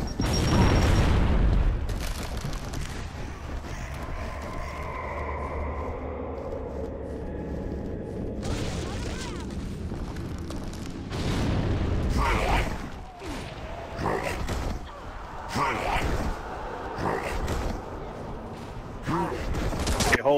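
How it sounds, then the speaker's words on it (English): Frag grenade exploding in a Gears of War match, opening with a loud, close boom that rumbles and fades, then scattered sharp bangs and game sound effects, with a voice talking over it. "Throwing frag!"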